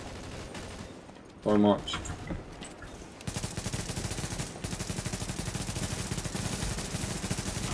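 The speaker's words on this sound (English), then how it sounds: "This fucking shotgun is too powerful for this." Shotgun blasts in Tom Clancy's The Division, one short loud burst early on, then a long run of rapid repeated shots, with someone briefly talking over it.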